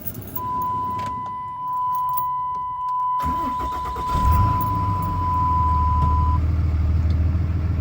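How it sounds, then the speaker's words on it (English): A steady warning chime sounds, then a big Dodge Cummins diesel pickup truck engine cranks and catches, settling into a loud, deep rumbling idle. "I'm just gonna give y'all a little start up and show the engine on this one."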